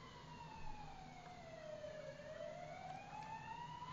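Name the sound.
fire truck siren approaching a burning car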